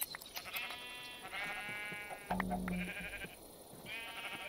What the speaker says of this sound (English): Gotta shear the sheep here again.